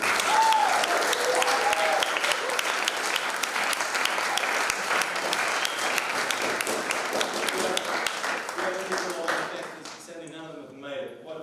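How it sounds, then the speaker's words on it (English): An audience at a school young musician of the year senior final applauds a teacher, dense sustained clapping filling the hall at moderate volume, tapering off as a voice begins speaking at the end. "So let's give him a round of applause too."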